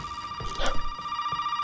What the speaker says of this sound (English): Oh wow, there's a phone call though.